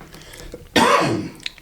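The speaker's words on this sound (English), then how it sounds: "I keep coughing." A man recovering from the flu lets out a single harsh, loud cough up close, a sharp burst followed by a quick trailing rasp.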